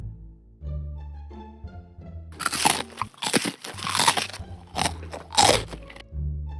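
Crunchy fried chicken, both KFC and homemade, bitten and chewed up close, with several sharp crackling crunches in quick clusters between quieter background sound.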